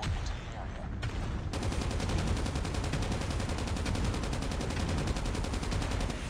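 Rapid automatic weapon fire from Call of Duty: Mobile rattles nonstop in a fast, even burst after a brief quieter start, loud and continuous throughout.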